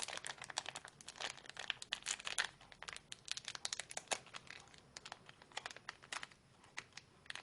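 A plastic packet of cotton pads is opened up close: quiet, irregular crinkling and crackling that runs throughout in quick bursts.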